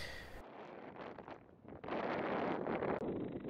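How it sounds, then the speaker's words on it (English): Gusting wind buffets the microphone outdoors at an FPV drone flight test, in rough, uneven bursts, rising louder toward the end, with no voices. "As you can see, it's a windy day."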